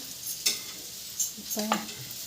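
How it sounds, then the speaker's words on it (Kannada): Pieces of pathrode, a Tulu-style colocasia-leaf roll, frying in a pan with a soft steady sizzle, punctuated by a few scraping stirs of a utensil; no voices. "ನಾನಲ್ಲಿ ತುಂಡು ಫ್ರೈ ಮಾಡ್ತಾರೆ"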